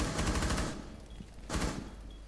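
Rapid bursts of gunfire from a video game, two dense volleys separated by a quieter gap, loud and close with no talking over them.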